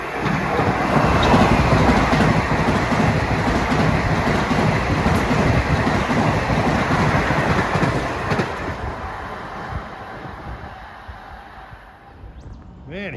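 An LIRR commuter train of M9 cars, running from Ronkonkoma to Grand Central, rumbles past with steady clattering wheels on triple track. The roar is loud and close at first, then fades as the train moves off.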